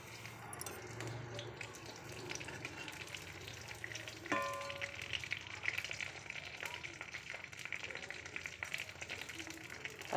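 Fennel seeds crackle and sizzle steadily in hot oil for an egg curry, a continuous close frying hiss with a sharp clink partway through and faint background voices.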